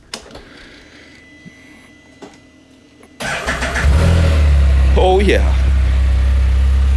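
A Can-Am Spyder RT motorcycle fitted with a Spyder F3 muffler starts up abruptly after a quiet stretch, then idles loud and deep close by, with a brief talking voice over it.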